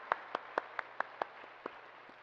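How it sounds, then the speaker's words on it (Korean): Faint, evenly spaced hand claps from a church congregation during a Sunday service sound in a steady rhythm, about nine sharp claps trailing off softly. "우리 다시 한번 영광의 주님께 감사의 박수 올려주세요."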